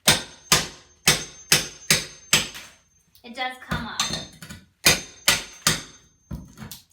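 Old floor tile being struck and pried up with a bar, a series of sharp, loud impacts in a steady rhythm, a short burst of talk midway, then more whacks.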